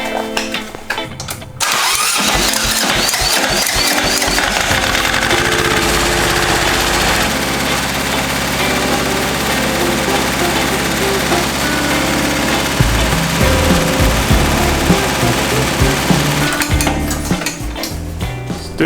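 A John Deere 650 tractor engine cranks briefly, then catches and settles into a loud, close, steady idle with a chugging mid-range rumble. No one speaks.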